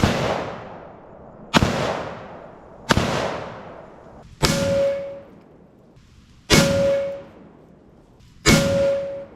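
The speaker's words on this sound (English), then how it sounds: "We will be using the Fabrique Nationale FAL rifle" Six rounds of 7.62mm NATO full metal jacket fired one at a time from an FN FAL rifle at a Ferret Scout Car armored car. Each sharp loud report decays quickly, and the last three ring with a metallic clang.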